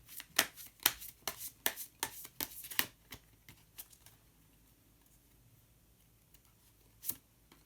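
Quick run of crisp card flicks and riffles as tarot cards are shuffled and one is drawn, close and sharp at first, then fading to quiet with a single later snap.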